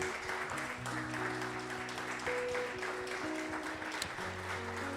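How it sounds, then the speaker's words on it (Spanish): Church congregation applauding during an evangelical service led by a pastor, a steady dense clapping over sustained organ or keyboard chords that fills the whole stretch at an even level. "Damos un fuerte aplauso a nuestro Dios en esta hora."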